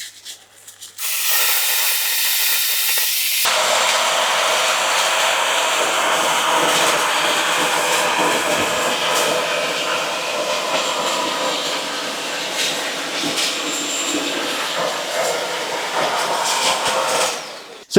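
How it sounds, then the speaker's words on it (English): A Bosch Unlimited 7 ProHygienic Aqua 2-in-1 cordless vacuum and mop starts up and runs over a floor strewn with porridge, crisps and Weetabix crumbs, a loud steady whirring hiss that deepens after a few seconds and holds for the rest, with no speech. "see how well this will vacuum and mop at the same time"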